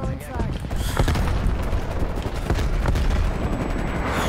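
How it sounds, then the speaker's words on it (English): Artillery fire in the first-person shooter Call of Duty: Black Ops Cold War, heard as a constant roar of blasts, booms and rumbling explosions, with a player talking over the barrage. "as soon as I leave, that's when the artillery gets me, even though I already heard three go off"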